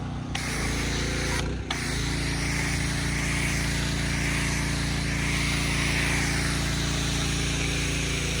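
A pressure washer runs steadily while washing a Mercedes-Benz, producing a loud, constant roaring hiss of spraying water with a low motor drone underneath. There is a brief dip early on, and no one speaks.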